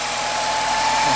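An Alfa Romeo Spider 916 with a Twin Spark engine idles while not fully warmed up, giving a steady, even mechanical hum with a faint thin whine on top, close and alone.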